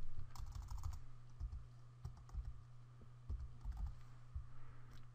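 Password typed on a computer keyboard, with quick close key clicks in short bursts separated by brief pauses, over a low steady electrical hum.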